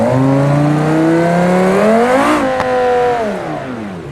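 A race car engine in the driving game BeamNG Drive revs steadily upward in a loud whine, peaks, then drops as the pitch falls away, with a brief sharp click near the top of the rev.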